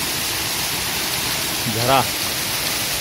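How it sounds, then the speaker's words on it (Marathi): Natural mountain spring water flowing beside a trekking path near Kedarnath, a steady broadband rush filling the whole clip, with a brief voice-like tone rising over it near the middle. "नैसर्गिक झरा"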